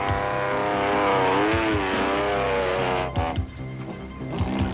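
A Sandmaster off-road race car at the 1992 Baberspan 500 revs hard with wheels spinning to pull free of mud, a loud sustained engine whine that rises, then breaks into rougher bursts as it drives away.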